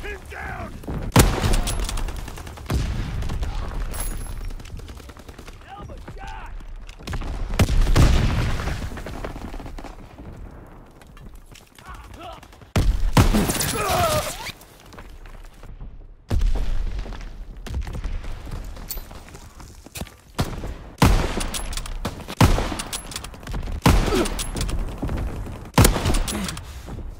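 Gunfire and grenade explosions in the World War II shooter Call of Duty: WWII, with rapid rifle and machine-gun bursts, heavy booming blasts and shouting voices in a loud, chaotic battle.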